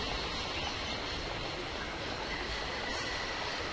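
Constant broadband rumble and hiss of a train station in the video game Syberia, like rolling rail cars, steady and unbroken with no voices.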